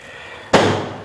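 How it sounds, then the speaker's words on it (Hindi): A single sharp firecracker burst goes off in the background, a sudden broadband crack that fades over about half a second against a quiet room hum. "पटाखे ज़्यादा ही पटक रहे हैं पीछे"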